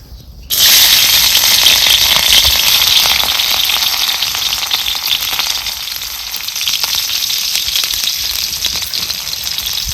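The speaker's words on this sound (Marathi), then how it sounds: "मिरची चांगली भाजून घ्यायची" Chopped green chillies sizzle loudly in one to one and a half ladles of hot oil while cooking a village-style giloy bhaji, a sudden steady frying hiss that starts within the first second and carries on alone without letup.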